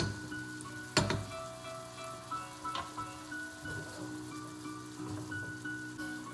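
Bananas and peaches browning in a hot pot, a soft continuous sizzle with occasional sharper pops and clinks, fairly quiet throughout.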